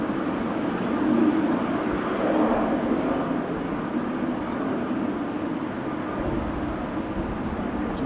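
Boeing 787 Dreamliner airliner at Amsterdam Schiphol Airport on a windy, showery day, a steady broad distant engine roar that swells slightly early on and holds at a constant level.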